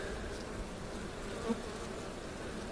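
A steady, close drone of many honey bees buzzing together on a hive frame, continuous and dense with no voices.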